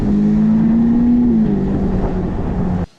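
Ferrari SF90 Spider hybrid hypercar cruising with a loud, steady engine drone and a sustained tonal whine that dips slightly midway, heard up close before cutting off sharply.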